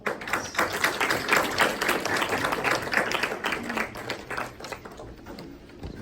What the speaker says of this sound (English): Please give me more applause.